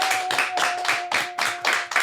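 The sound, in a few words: audience clapping for podcast guest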